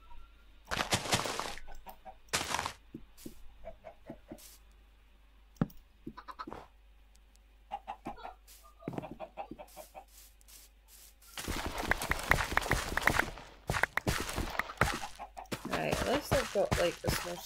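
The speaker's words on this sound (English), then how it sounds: "some of the chickens are back" Chickens clucking in short bursts with scratching, fairly close, followed by a louder, denser stretch of activity toward the end; no talking.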